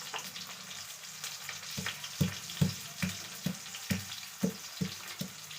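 Curry leaves and four chillies fry in a pan with a continuous sizzle, broken by a regular series of stirring scrapes and taps close by.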